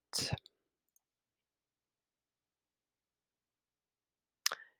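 Two short computer mouse clicks, one at the very start and another near the end, separated by a long stretch of silence; each is crisp, close and brief.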